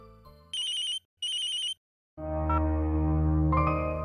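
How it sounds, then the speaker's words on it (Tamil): Telephone ringing in a household scene, two short electronic ring bursts in quick succession, loud and clear, followed by a swell of background music. "சுஹானா அண்ணி, உங்களுக்கு ஃபோன்"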